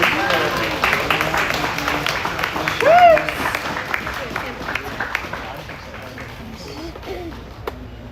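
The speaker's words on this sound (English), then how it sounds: "Please join me in giving a warm round of applause for Isaiah" An audience gives a round of applause for a competitor at a national brewers cup event, a mix of clapping and crowd noise with voices over it that fades toward the end.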